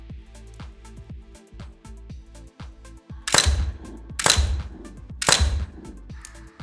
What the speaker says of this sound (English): Nick, come on up and shoot a 3-round group